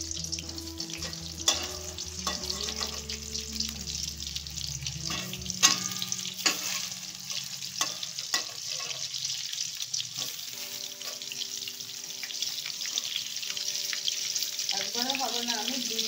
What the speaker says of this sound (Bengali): এবার আমি পটলটা এক এক করে ছেড়ে দিচ্ছি তেলের ভিতর।